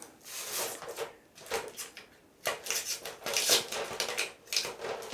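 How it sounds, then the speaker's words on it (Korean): Protective plastic film is peeled off a retro-styled electronic device framed as an art piece with glass front and rear case. Close, crackly crinkling and tearing rasps come in uneven bursts with short pauses. "그리고 비닐 뜯는 이 기회도 또 제공을 해줍니다"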